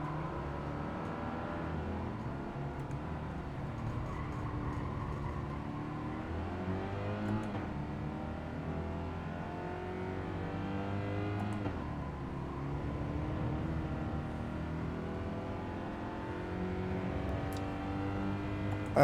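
Racing car engine in Gran Turismo 7 holding a steady drone with rising and falling revs through corners, European classic compact on track, continuous and fairly quiet with no voices.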